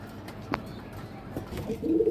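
Racer pigeons, a red chequer cock paired with a hen, coo softly in a loft, with low murmuring coos that swell toward the end and no talk over them.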